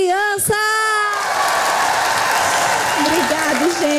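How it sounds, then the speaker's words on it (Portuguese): Children applauding at a kids' church event, a dense wash of clapping mixed with crowd noise that swells in after a brief voice and continues loudly to the end, with some cheering and calling rising through it. "Cadê as palmas, criança?"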